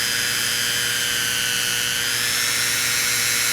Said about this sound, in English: I'm going to drill a little hole on the end over here.